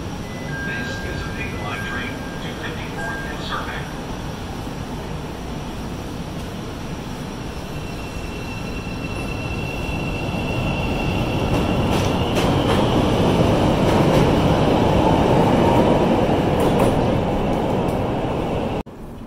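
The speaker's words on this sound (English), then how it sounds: "the train that's on the platform right now isn't the right one" A Chicago L elevated train sits at a station platform, its rumbling hum and whine swelling louder midway with a brief tonal chime early on, a steady close rail din without talk.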